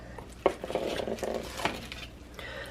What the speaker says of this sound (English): let me go ahead and just give this a stir.